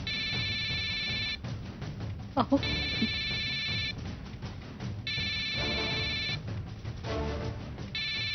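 A phone ringtone plays in repeated bursts of a few seconds each, sounding loud and close in a Marathi TV serial scene, with people speaking over and between the rings.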